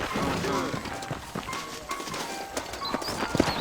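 Horse hooves clip-clopping in the Red Dead Redemption video game, a quick, close run of hoofbeats alongside game ambience and a voice in the background.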